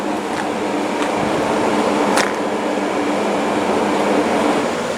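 Adirondack Railroad passenger train with a dining car, departing from Utica, heard as a steady low rumble and rolling hum with faint clicks from the rails, continuous and moderately close.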